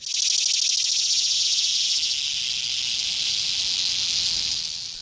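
A chorus of Brood II periodical cicadas calls in an East Coast emergence, a loud continuous high-pitched droning buzz that holds steady for the whole stretch with no voices.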